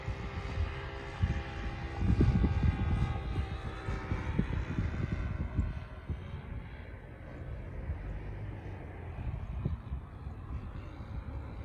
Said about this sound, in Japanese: ナイスランディング。